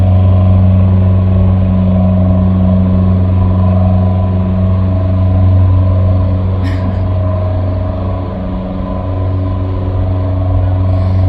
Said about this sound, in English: There's actually a boat going by. Hang on, it's kind of loud.